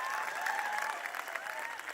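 An audience applauds at a Hindi-language motivational talk: steady, fairly dense clapping from a crowd in a hall, continuous for a couple of seconds at moderate volume.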